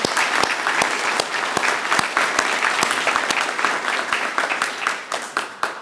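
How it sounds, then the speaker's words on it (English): Audience applause for a legislator at a security event, dense and close with a few sharp individual claps standing out, sustained evenly and tapering near the end. "let's give him a round of applause for being here."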